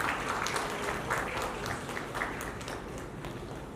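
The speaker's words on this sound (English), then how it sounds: "A big round of applause for Dr." Applause for a doctor at a health awards event, a dense crowd clapping steadily throughout, loud and fairly close, with no talk over it.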